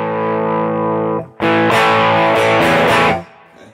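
Electric guitar through a Quilter Superblock US amp on its tweed setting, distorted: a sustained chord, a brief gap, then a louder, gritty strummed chord ringing before it cuts off, loud and close.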